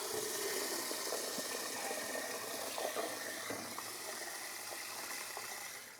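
Water running into a container of freshly harvested chestnuts, a steady gushing pour close by, continuous and fairly even with faint knocks and splashes along the way.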